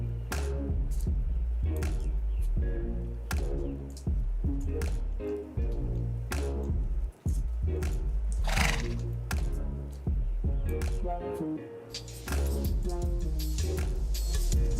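Horses neighing and whinnying, repeated calls over a busy clattering background with some thumps, fairly loud and continuous throughout.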